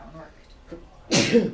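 One person gives a single sharp sneeze in a classroom during an algebra lesson, loud and close, coming right after a few quiet spoken words.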